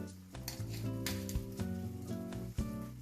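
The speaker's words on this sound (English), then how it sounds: "It has been boiling for at least 5 minutes, so I'm going to add around 2 tablespoons of butter here." Dal makhani simmering in a pot after boiling on medium heat, with about two tablespoons of butter added; a steady close sizzle and bubbling runs throughout, broken by brief clinks of a utensil against the pan.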